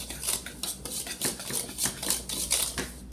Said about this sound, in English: sugar to 1 cup of flour. And I'm going to whisk those.